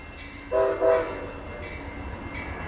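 Amtrak Texas Eagle northbound passenger train No. 22 passing a crossing on Stassney Lane in south Austin, Texas, in rainy weather, giving two loud horn blasts in quick succession over steady rumble and rain noise.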